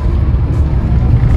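Wuling Air EV electric car pulling away hard from a standstill on a test track at an auto show, with a steady low rumble and road noise and no clear rise in pitch.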